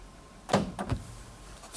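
Central locking engaging on a Renault Master 3 van: two quick mechanical clunks about half a second apart, close and moderately loud, followed by quiet and a faint click at the end.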